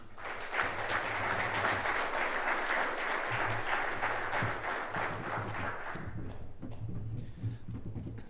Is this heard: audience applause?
yes